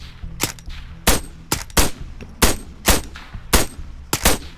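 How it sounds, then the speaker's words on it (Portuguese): Sharp bursts of gunfire in the video game Arma 3 Battle Royale crack out one after another at irregular intervals, loud and close, with a low game-like rumble underneath. "Tá atirando em mim"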